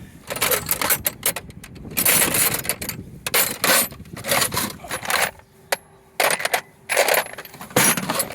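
Metric and standard metal wrenches in a vehicle tool kit clink and jangle against each other in repeated bright bursts, close and moderately loud, with short quiet gaps between them.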